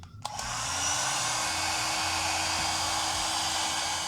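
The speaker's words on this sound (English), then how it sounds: "Then we take the hair dryer." A handheld hair dryer clicks on and blows a loud, constant, close whooshing stream of air with a low motor hum over a wig being installed, no voices over it.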